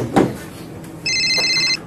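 A telephone gives one short electronic ring burst, close and clear, after a brief soft knock; no voices.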